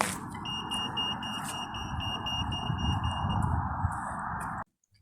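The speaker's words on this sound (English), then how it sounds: "And this is how the beeping sound goes as well" A toucan pedestrian crossing signal gives a steady electronic beeping tone with higher pulsing overtones, loud and close, continuing for several seconds before cutting off abruptly.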